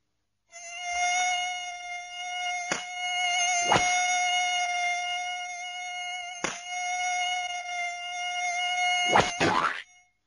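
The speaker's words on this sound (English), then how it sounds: "It isn't a mosquito, Mike. It's a bee." A bee buzzing in a steady, continuous drone that lasts nearly ten seconds, close and fairly loud, with a few brief sharp clicks along the way and no voices.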